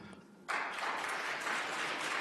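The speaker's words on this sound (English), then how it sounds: "Let's hold the applause, please." Audience bursts into applause after a short quiet lead-in, dense sustained clapping filling the room and holding steady to the end.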